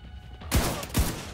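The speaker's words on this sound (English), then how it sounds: "I did not mean to pull the trigger" Two sharp gunshots from a rifle in The Division 2, roughly half a second apart, loud and close with booming low ends and short decays over quiet game ambience.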